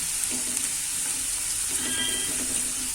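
Ingredients for a Kathiyawadi guava curry fry gently on a low flame, giving a steady, close sizzle with soft crackles throughout and no voices.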